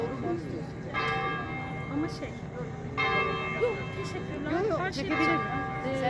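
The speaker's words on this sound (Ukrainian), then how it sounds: "б'ють дзвони катедрального храму." Cathedral bells in Portofino ring out with sustained, resonant strikes around the one- and three-second marks, mixed with voices and outdoor chatter.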